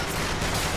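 A gun fires in Bioshock Infinite, a single sharp burst of broadband gunfire filling the brief moment, loud and close.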